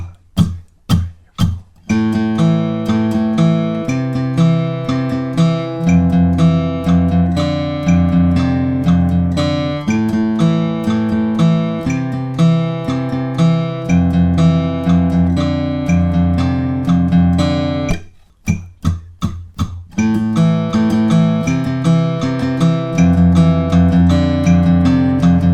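A distorted electric guitar plays a chugging, repeated intro/verse riff at steady volume, with a brief pause about two-thirds through before it resumes.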